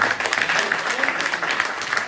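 Audience applause at a Bundeli poetry recitation, a short burst of dense clapping from a crowd, loud and steady throughout with no voices on top.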